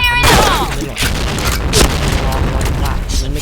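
Gunfire from the video game Point Blank, with dense booming shots and blasts layered continuously over a player's ongoing talk.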